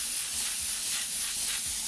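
Airbrush hisses steadily as white paint is sprayed over a star stencil, a close, continuous fine airy spray with no pauses.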